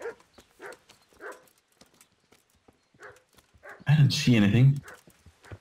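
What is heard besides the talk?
horse hooves clip-clopping in the video game Kingdom Come: Deliverance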